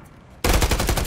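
After a quiet lead-in, sustained rapid automatic gunfire erupts in a first-person shooter video game, loud and close, with a steady rhythmic stream of shots continuing to the end.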